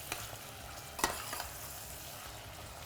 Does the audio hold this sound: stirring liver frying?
yes